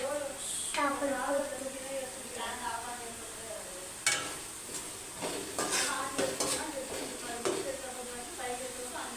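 Ginger garlic paste frying in a pan for a fish curry, a steady sizzle with stirring scrapes and occasional utensil clinks against the pan, close up, with a voice talking over it.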